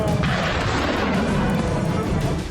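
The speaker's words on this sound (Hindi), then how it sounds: "जैसे ही मिसाइल गिरी, जोरदार धमाका हुआ" A missile strike on a weapons depot near a US base in Erbil, heard as a loud, sustained roar of blast and rumble filling the whole clip, dense and distant-sounding with no clear single impact.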